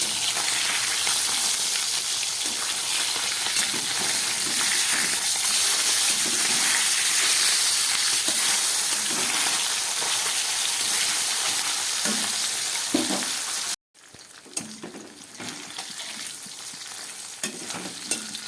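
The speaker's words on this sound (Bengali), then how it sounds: "পাবদা মাছটা ভালো করে ধুয়ে নুন হলুদ মাখিয়ে ভাজা বসিয়ে দিলাম।" Pabda fish, washed and rubbed with salt and turmeric, frying in a pan with a loud, continuous close sizzle and crackle, briefly cutting out before resuming just as strongly.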